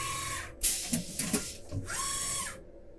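A TRAK 2op portable vertical machining center whirs and whines as it loads tools, a steady motorized hum broken by a few short mechanical clunks and shifts, close and fairly quiet.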